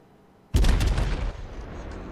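Heavy battleship gun volley from the Yamato in World of Warships: a sudden loud boom with broad blast that rolls on and slowly decays into rumbling noise, no talk.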